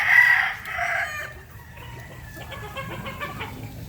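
Gamefowl roosters at a breeders' gameyard, one crow rising loud and close at the start, then fainter clucks and calls from other birds as the yard quiets down.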